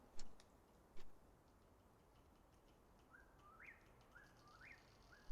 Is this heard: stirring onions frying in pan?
no